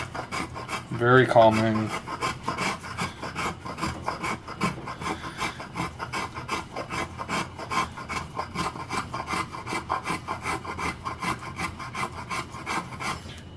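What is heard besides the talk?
carver smoothing wood on a Telecaster body carve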